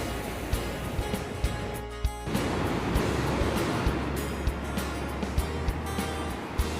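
The Pindari river at Karnaprayag rushes in a steady broadband roar, with sharp clicks and bumps scattered over the flowing water noise throughout.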